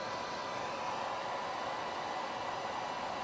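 A heat gun blowing hot air onto headlight tint film during a motorcycle headlight install, a steady close whooshing hiss of airflow held at an even level throughout, with no talking.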